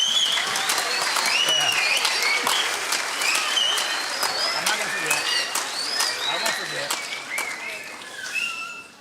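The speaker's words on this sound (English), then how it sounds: "How about a nice round of applause for all of our paraprofessionals that work with our kids?" Audience applause at a 5th and 6th grade winter band concert, honoring paraprofessionals: steady, dense clapping from a crowd that carries on for several seconds and slowly fades, with scattered whoops and chatter mixed in.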